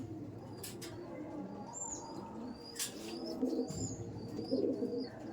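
Red-beaked Laldom pigeons coo softly in a cluster in a loft, mixed with wing flaps and light chirps, a low murmuring flock heard close up.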